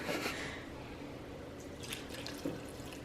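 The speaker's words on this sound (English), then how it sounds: "you want to pour the water in?" Water is poured into a mixing bowl of eggs during home cooking, a faint, steady trickling splash with a few brighter drips, quiet and close.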